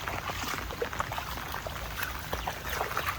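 Water pours and trickles steadily over a dam brimming after heavy rain, a continuous close splashing rush with small bright splashes through the whole stretch.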